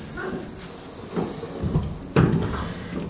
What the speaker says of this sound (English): the crickets are chirping, that's for sure